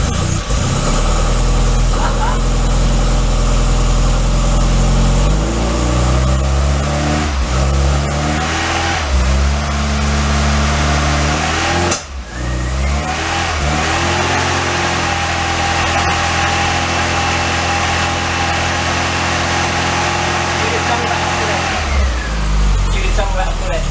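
Classic Mini van engine on its first start after restoration, catching and running with a rough idle, then a series of rhythmic revs rising and falling, loud and close with voices talking over it.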